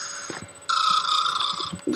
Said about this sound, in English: And I have this cute little horsey. And he snores.